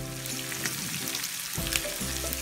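Marinated prawns fry in oil in a pan with a dense, continuous sizzle, close and steady, with a few faint stirring scrapes and no voices.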